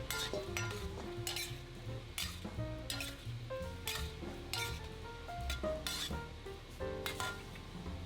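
Beef stir-fries in a wok with thickened sauce and sesame oil for kung pao beef, giving a steady sizzle with scraping stirs and light metal clinks under background music.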